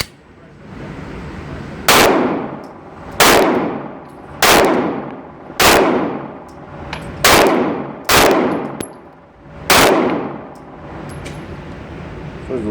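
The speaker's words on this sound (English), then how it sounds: "These are all going to be face headshots on Magic Mike." Seven sharp pistol shots from a Springfield XD 9 3.3 with a short magazine, fired at a shooting range with uneven pauses between them, each crack loud and close, followed by a short ringing decay.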